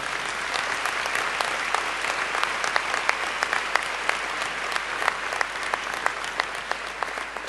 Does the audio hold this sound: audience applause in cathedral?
yes